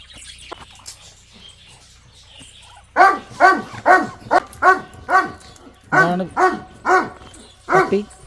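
A puppy barks repeatedly at close range, about a dozen high, yappy barks in quick bursts after a few quiet seconds.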